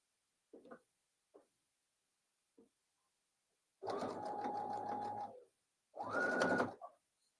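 Sewing machine stitching fabric for a memory bear, running in two bursts of steady motor whir of a couple of seconds each, close and clear, after a few brief handling knocks.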